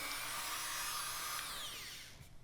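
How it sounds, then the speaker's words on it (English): A high-pitched power drill whines steadily as it bores a small blade entry hole for scroll saw cutting, then winds down and stops near the end. "you start by drilling a small blade entry hole at the inner end of the spiral"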